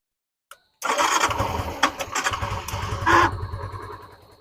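A motorcycle at a bike showroom is started: a faint click, a short pause, then the engine catches and runs with an uneven, throbbing idle and a brief louder surge before settling and fading slightly.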